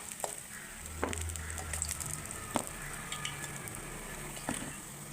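Evening snack fritters and ripe plantain pieces deep-fry in hot oil with a continuous low bubbling sizzle, dotted with occasional sharp pops and crackles close by.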